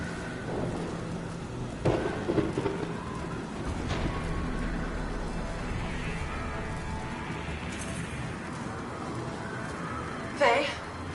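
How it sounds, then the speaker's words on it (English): Thunderstorm in the video game Anthem, with a continuous rumble of rain and wind broken by sharp cracks of thunder near the start and again near the end, while voices talk over it. "You're in a cataclysm. Terrible storm."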